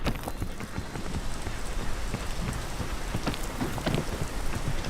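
Rain in the climbing video game PEAK, a dense steady patter of drops on surfaces with faint low rumbles, continuous and close throughout.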